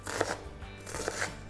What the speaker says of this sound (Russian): Лук сейчас нарезаю крупными кусками.